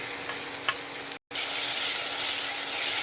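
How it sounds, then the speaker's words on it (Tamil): Small onions sauté in well-heated oil in a pan for a chicken and egg Maggi dish, making a bright, constant close sizzle that cuts out for a moment and then resumes, with no one speaking. "வெங்காயத்தை போட்டு நல்லா வதக்கிறோம்"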